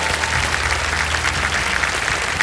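Studio audience applause on the KBC game show as a contestant quits with a prize, a dense, steady burst of clapping close and loud throughout.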